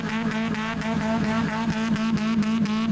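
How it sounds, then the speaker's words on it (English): A small 1300cc engine in a 4x4 trials vehicle held on the rev limiter at a New Zealand trials event in Mercer, a loud buzzing drone that cuts out and returns in rapid, regular stutters throughout. "Set it on the rev limiter."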